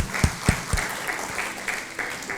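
A church congregation claps at a Sunday service, with a few loud sharp claps at the start settling into steady, fainter applause that echoes through a large hall.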